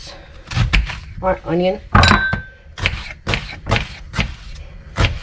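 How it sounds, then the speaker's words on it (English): A knife chops through an onion on a cutting board, giving about eight crisp, separate knocks at an uneven pace, with a person talking briefly between the cuts. "I'm going to cut our onion"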